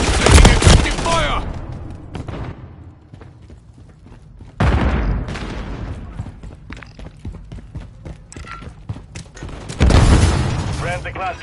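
Heavy bursts of gunfire and booming explosions in the multiplayer shooter MW3, hitting in three loud waves that each decay into scattered shots, with voices calling out between them.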